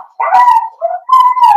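A puppy howls and yelps in drawn-out, wavering cries, loud and close, in two bursts split by a brief pause.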